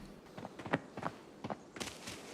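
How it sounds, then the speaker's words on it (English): Footsteps of a bot in the shooter game Arena Breakout, a handful of soft, uneven steps at moderate distance over quiet ambient background, with no talk. "Turns out the footstep near me was just a bot."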